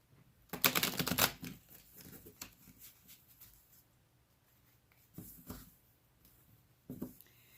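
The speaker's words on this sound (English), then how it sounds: "These are not the easiest cards to shuffle" A deck of tarot-style cards is riffled in a quick, crisp burst, followed by softer, scattered shuffling sounds and a couple of brief flicks, close and fairly quiet.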